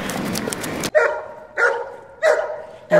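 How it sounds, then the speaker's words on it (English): A dog barks indoors, close and loud, four sharp separate barks spaced about half a second apart, with a short burst of noise just before them. "A dog in my house?"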